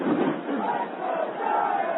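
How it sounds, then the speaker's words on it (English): A loud crowd at Pac Bell Park during the 2002 World Series, a sustained roar of cheering voices and thunder sticks that surges and dips slightly, heard through narrow broadcast audio. "as you can hear, a loud crowd here at Pac Bell Park tonight"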